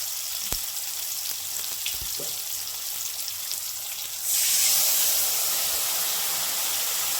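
Tomato frying lightly in a pan for a fish curry with black cumin, giving a steady soft sizzle that swells into a louder, brighter hiss partway through, with no talking.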